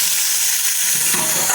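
Fried potatoes, beans, peas and carrots are stirred together in a hot pan, a loud close sizzle with scraping and shuffling as the food is turned, no voices.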